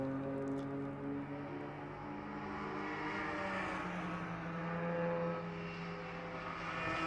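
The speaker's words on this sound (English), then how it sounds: "you hear that gear shift in the middle of the carousel for the CRX" A Honda CRX race car pulls through the carousel turn at a national championship road race, its engine note droning steadily with a brief shift change midway, mixed with other cars at a moderate distance.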